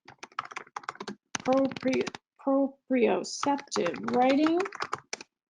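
Keys on a computer keyboard clatter in quick bursts under a speaker's talking, with dense clicking in the short gaps between phrases and behind the voice.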